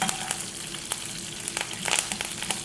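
Cumin seeds, black mustard seeds and curry leaves frying in hot oil for a bitter gourd stir fry, a bright steady sizzle with quick crackling pops and a couple of stirring scrapes.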